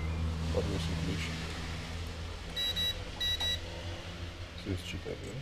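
A handheld RFID 125 kHz EM4100 intercom key duplicator reading a key gives two short, high, clipped double beeps in quick succession over a humming, noisy room background.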